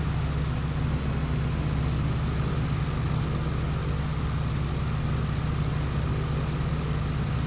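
The engine of a Stearman A75 biplane in MSFS 2024 drones on continuously, running slightly rough, a loud, steady low rumble with no talk over it.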